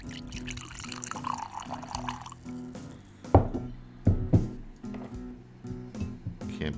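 Woodinville rye whiskey poured into a glass, a soft liquid stream trickling and gurgling at close range, followed by a few sharp drips and clinks near the end.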